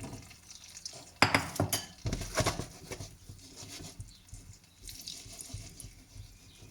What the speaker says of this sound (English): Now you don't want to mess around with them once they're in the pan. Just give them a gentle shake.